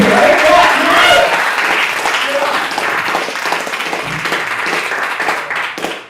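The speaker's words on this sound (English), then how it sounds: "You guys, clap like you know him." Comedy club audience clapping loudly at a live stand-up show, a burst of applause that starts strong and gradually thins out, with voices mixed in.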